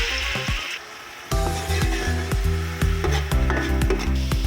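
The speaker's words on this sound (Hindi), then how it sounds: "पेस्ट हमारा फ्राई हो रहा है" A spice paste fries in a cup of hot oil in a deep degchi pot for kari pakora. There is a constant crackling sizzle, broken by a regular series of scraping stirs.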